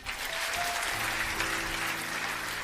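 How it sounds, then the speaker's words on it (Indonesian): A church congregation applauding, a dense continuous clapping from a crowd that holds steady throughout, with no speech over it. "Tepuk tangan."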